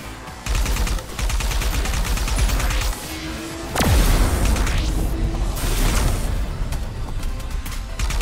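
Explosions and gunfire in the video game ArcRunners form a loud, dense barrage of booms and rapid shots that runs almost without pause, with a heavier blast near the middle.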